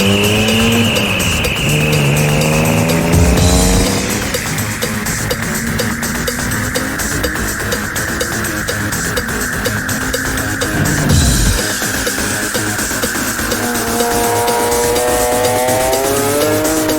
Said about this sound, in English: also fitted a Group M exhaust system, which definitely sounds the goods